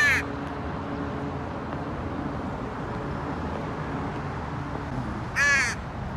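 A crow caws twice in Guadalupe River Park, San Jose: one call at the very start and a second a few seconds later, both fairly close. A constant rushing outdoor background fills the gap between them.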